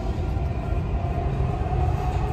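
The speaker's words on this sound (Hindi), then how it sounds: "फर्स्ट टाइम है दुबई मेट्रो।" The steady rumble and rattle of a Dubai Metro train running along the track, continuous and close, with no speech.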